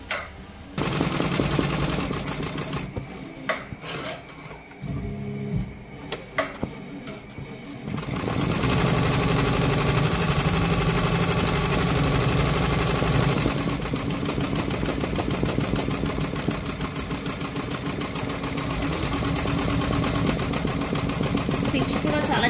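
A computerized embroidery machine stitches a logo with a steady, rapid mechanical chatter. After a few sparse, uneven taps it settles into a continuous, dense, fairly loud run.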